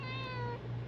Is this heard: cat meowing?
yes